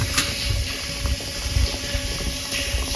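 Water runs into a village water tank in rural Konkan, a continuous rushing, splashing flow with low gurgling that stays steady and moderately near, with no talk.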